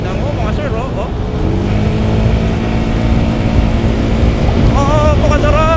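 A loud, steady engine roar with rising and falling whine from a QJ Motor Fortress 400 scooter riding fast, around 100 km/h, with wind rushing throughout.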